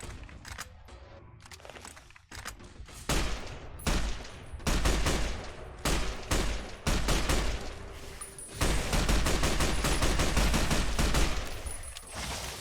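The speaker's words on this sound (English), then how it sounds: "who's firing a gun at me?" Gunfire in Fallout: New Vegas, with repeated loud close shots coming in bursts and then a dense, sustained volley of rapid fire.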